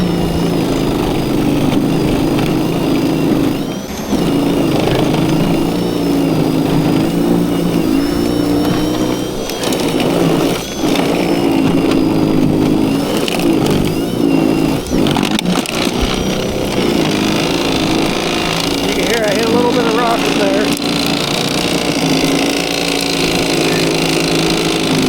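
A Litheli 40v battery snow thrower runs continuously at close range, its steady motor whine holding loud for the whole stretch with small surges and scraping through snow.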